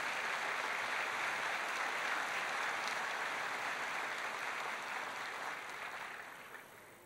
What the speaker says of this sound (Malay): Berikan tepukan pada Tien Sepa